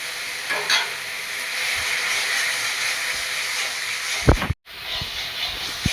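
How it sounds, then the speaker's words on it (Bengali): A spice paste for mutton curry is fried in a pan with hot water, giving a steady broad hiss and sizzle with a few stirring knocks and a loud burst near the end. "গরম জল দিয়ে মশলাটা কষাবো"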